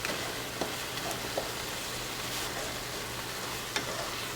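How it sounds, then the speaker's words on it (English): Picadillo, stewed ground meat, simmering in a pan over lowered heat: a steady soft sizzle and bubbling hiss, faint and continuous, with a few small pops. "I'm going to let this simmer"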